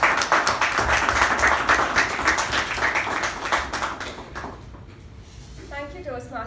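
An audience claps for a speaker at a Toastmasters meeting, a dense run of applause that slowly fades out, with a voice beginning to speak at the end.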